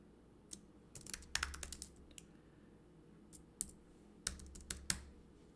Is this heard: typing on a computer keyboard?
yes